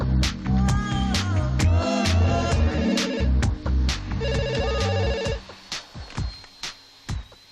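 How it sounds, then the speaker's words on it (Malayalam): A phone rings loudly and close with a repeating melodic ringtone of bright electronic tones, then the ringing thins into sparse bursts and fades. "ജെന്നിഫറിന്റെ ഫോൺ"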